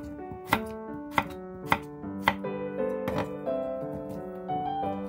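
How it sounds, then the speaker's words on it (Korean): A knife chops radish into thin squares for nabak kimchi, four crisp, evenly spaced cuts on a cutting board over soft background music. "무는 750g을 나박나박 썰어줍니다."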